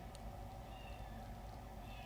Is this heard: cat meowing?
yes